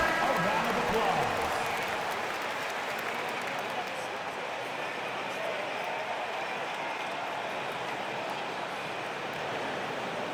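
Arena crowd in the NBA 2K25 basketball game breaks into applause and cheering, a dense, sustained roar of clapping that stays loud throughout, with a commentator-like voice briefly over it at the start.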